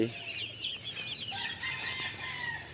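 Chickens cluck and crow in a small backyard poultry pen wrapped in netting, with several overlapping calls that carry on steadily and fairly close, with no talking.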